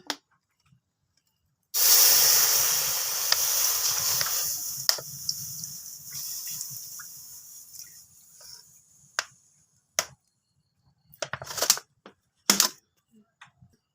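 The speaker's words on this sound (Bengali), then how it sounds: "কড়াই চুলোয় দিয়ে দিছি এবার আমি এসে দুধ দিয়ে দেবো" Milk goes into a hot wok on a stovetop and hisses loudly at once, a steady sizzling rush that slowly fades, followed by a few sharp clatters and taps.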